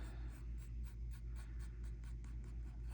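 A pencil lightly tracing and retracing a small, quarter-sized circle on paper for a Zentangle drawing gives a soft, close scratchy rasp in quick, steady repeated sweeps, faint and alone without any talking.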